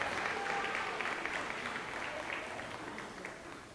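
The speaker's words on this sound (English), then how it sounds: "Give our volunteers a big round of applause." A crowd at an outdoor Seminole powwow applauds steadily for volunteers, a broad, continuous wash of clapping that tapers slightly toward the end, with no distinct voices.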